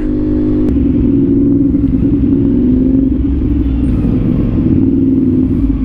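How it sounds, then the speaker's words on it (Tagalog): Heavy road traffic in Cavite, with car and motorcycle engines rumbling steadily and closely, a continuous dense drone and no speech. "Sobrang traffic."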